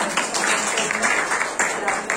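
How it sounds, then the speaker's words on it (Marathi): Audience applause for two special women guests at a Makar Sankranti get-together, a dense steady patter of many hands with a voice partly over it. "आपण जोराने टाळ्या वाजवून"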